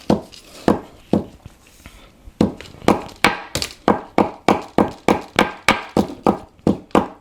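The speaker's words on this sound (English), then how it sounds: "we're just going to press and crush our fresh herbs" Fresh herbs are crushed by pressing with a heavy bottle, a run of sharp taps and thunks that starts irregular and settles into a quick, steady rhythm, close and fairly loud.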